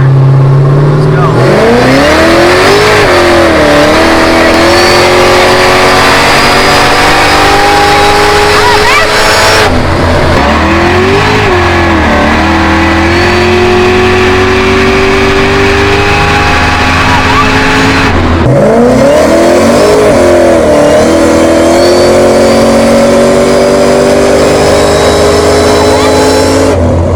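A turbocharged 1300 hp 427 LSX Camaro ZL1 on 22 lb of boost pulls hard at full throttle from second gear, its engine loud and close with three rising surges that each break off abruptly, while people speak over the roar.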